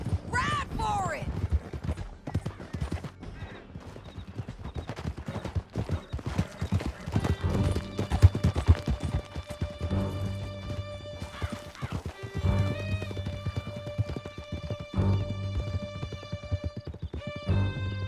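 Horses galloping hard through a canyon in Red Dead Redemption 2, a steady rapid clip-clop of hooves with whinnies, loud and close, under game music and background voices.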